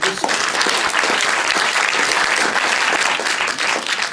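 A theatre audience applauds steadily and loudly, a dense wash of clapping from many hands that lasts the whole stretch without pause.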